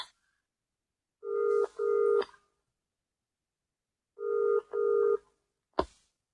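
A telephone being dialed: two pairs of steady, clear dual-tone beeps in separate bursts, followed by a brief sharp click, with silence in between.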